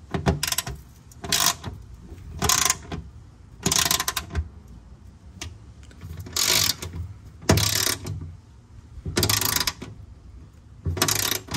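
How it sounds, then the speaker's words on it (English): A ratchet with a 10 mm socket tightens bolts during a Toyota GR86 oil change, giving about nine close, loud bursts of rapid clicking separated by short pauses. "take our 10 millimeter socket and just tighten those up."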